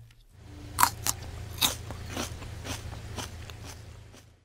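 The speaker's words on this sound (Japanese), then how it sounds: "実はこれ、小松菜をかじる音なんです。" Crisp crunching bites into fresh komatsuna greens outdoors in rural Nabari, Mie, several sharp snaps followed by softer chewing crunches, close and fairly quiet over faint background hiss.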